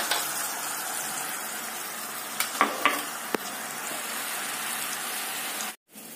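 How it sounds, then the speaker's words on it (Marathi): A pot of water at a boil, giving a steady close bubbling hiss, with a few light clinks in the middle and a brief drop-out just before the end. No one speaks. "पाण्याला आपल्या उकळी आलेली आहे"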